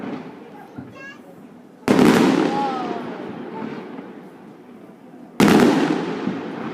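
Swiss National Day fireworks, two loud sharp bursts a few seconds apart with crackling decay and rumbling echoes, people talking nearby between them.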